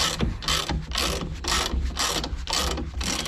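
A 21mm wrench tightens the strut nut on a Volvo S60 front shock absorber by hand, giving a steady series of close, gritty ratcheting bursts, about six strokes in quick succession with no talking.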